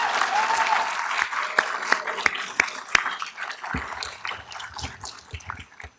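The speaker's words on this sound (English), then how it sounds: "Yeah, let's clap." Audience applause at a dental school white coat ceremony, a dense crowd clapping that starts fairly loud and thins out as individual claps fade toward the end.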